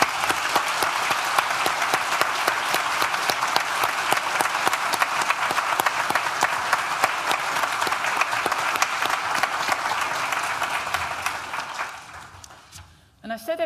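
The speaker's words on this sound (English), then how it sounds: "give them all a big round of applause" Loud, sustained applause from a large audience at a university graduation ceremony fills the space for about twelve seconds, then fades out near the end.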